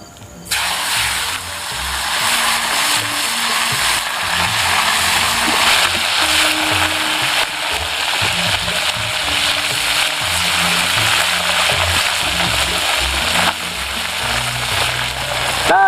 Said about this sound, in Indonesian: Kita goreng si ikan wadernya.